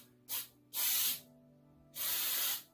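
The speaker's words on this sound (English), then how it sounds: "Again, just make sure to shake, shake, shake, shake, and spray." Three bursts of spray paint can hiss, one short and two longer, close by with a low background hum between them.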